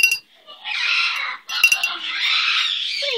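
A pet bird gives two harsh, drawn-out squawks close to the microphone, separated by a brief pause.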